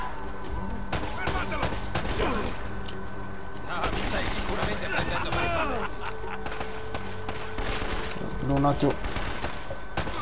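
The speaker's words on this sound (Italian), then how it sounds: "Ok, spara per uccidere." Dense gunfire rattles through an Uncharted video game mission, with rapid bursts of shots, thuds and explosions running continuously while a player briefly speaks.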